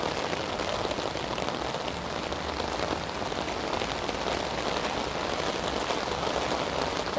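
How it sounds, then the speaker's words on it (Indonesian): Heavy rain pours steadily near a train station, a dense, continuous hiss of drops pounding surfaces with no break across the whole stretch. "Raining so heavy."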